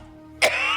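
Two short, harsh coughs from a person come close together, the first abrupt and the second following moments later, loud and near against a quiet room.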